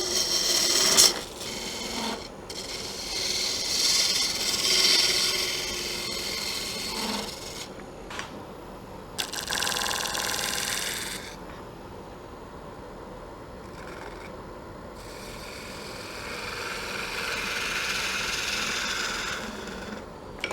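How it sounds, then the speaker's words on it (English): Bowl gouge cutting a spinning wooden lidded box blank on a lathe, a close, loud rasping scrape that comes in long bursts with short pauses between cuts. "we're working with the 40/40 bowl gouge today"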